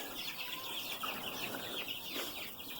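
Chickens cluck softly inside a cool chicken shed, with a faint, steady chatter of fowl and the occasional rustle of wings, fairly distant and with no talking.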